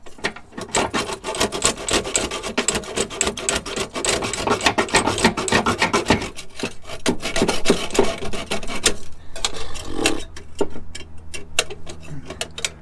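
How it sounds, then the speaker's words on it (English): A small hacksaw rasps steadily back and forth through a car heater exhaust pipe at a roadside, producing fast, loud, even strokes that keep going for several seconds before slowing and ending in a few scattered scrapes. "what I didn't have the other weekend is a little hacksaw. I'm going to see if I can hack it off."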